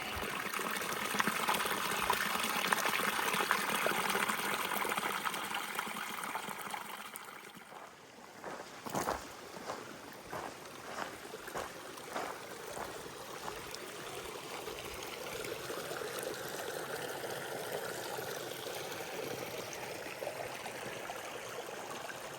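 Stream water running and trickling in a Nevada wilderness area while bottles are filled from it, a steady wash of flowing water, nearby and continuous, with a few splashy bursts midway.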